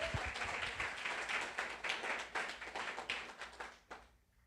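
A church congregation applauds together during a Sunday worship service, a dense stretch of many hands clapping continuously for about four seconds before tapering off abruptly at the end.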